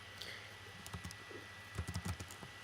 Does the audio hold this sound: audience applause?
no